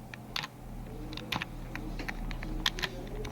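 Computer keyboard typing, a series of irregular sharp clicks and taps at a moderate pace over a low steady room hum, close and fairly quiet, with no talking.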